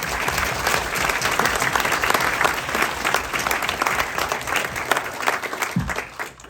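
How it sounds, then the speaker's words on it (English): Guests at a memorial service applaud, a fairly close crowd clapping briskly and steadily for several seconds before the sound thins out and stops near the end. "Let's give John an applause"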